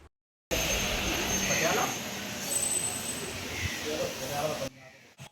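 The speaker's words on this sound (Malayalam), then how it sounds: "കോഴിക്കോട് നിന്ന് ട്രെയിൻ ഇപ്പോൾ എടുത്തിട്ടുണ്ട്" Second class passenger train pulling out of Kozhikode station, a broad steady rumble of wheels and carriage noise heard from inside at close range, loud throughout before cutting off abruptly.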